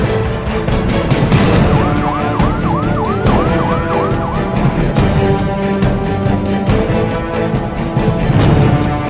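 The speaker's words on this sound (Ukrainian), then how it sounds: "Повітряна тривога." An air raid siren in Ukraine wailing loudly in quick, repeated rising-and-falling cycles over a dense, continuous background.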